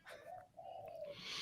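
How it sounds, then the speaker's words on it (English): A turtle dove coos outside a window, a soft, low drawn-out call in two short phrases, fairly faint and heard alone with no talking. "It's a turtle dove."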